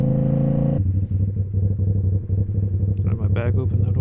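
A motorcycle on a training course idles with a low, steady engine drone, then the note shifts and rises as the clutch slips and the bike pulls into second gear, close and fairly loud.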